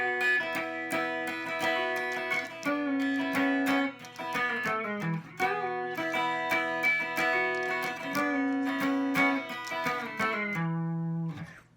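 Guitar lesson passage: a melodic line with bent notes, full ringing tones over a sustained low drone, played alone at steady volume and ending on a held note.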